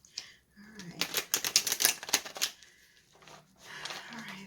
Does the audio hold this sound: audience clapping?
no